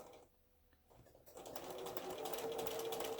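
A sewing machine starts up after a brief pause and runs steadily, sewing straight across the top of a quilt block, its close, even whir building and holding.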